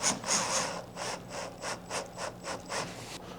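A power drill on a low setting drives screws while installing a bow mount, giving a close, rhythmic series of short ratcheting whirs about every third of a second.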